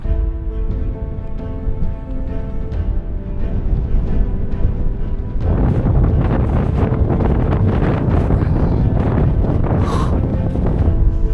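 Strong mountain wind roars and buffets against the microphone, starting lower then gusting harder and louder partway through, constant and close.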